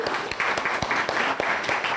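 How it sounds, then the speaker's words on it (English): An audience at an academic colloquium on the Carlisle Indian School and Canadian residential schools gives a round of applause for Professor Kat Griffin, steady moderate clapping with a few sharp individual claps standing out. "Can we give a round of applause to Professor Kat Griffin for all of her work so far this year on the colloquium?"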